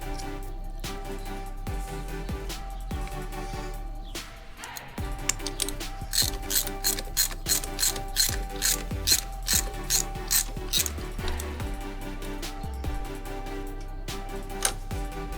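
A hand ratchet tightening a rear brake part on a Ural motorcycle, fast close-up clicking strokes in a steady rhythm after a few slower initial turns, with no talking.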